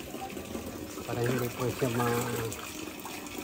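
Cold water pours into the top basin of a lambanog distilling still with a steady gushing splash, mostly under a person speaking nearby.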